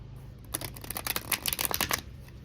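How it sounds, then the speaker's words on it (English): A deck of tarot cards shuffled by hand in a quick run of crisp riffling flutters over about a second and a half, close and fairly quiet, with no voices. "I'm going to go ahead and shuffle it 2 more times"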